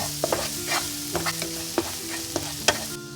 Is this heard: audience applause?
no